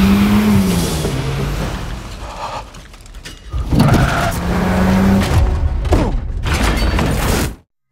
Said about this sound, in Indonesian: Sebuah mobil petugas langsung mengejar, memicu aksi balap kejar-kejaran yang sangat seru.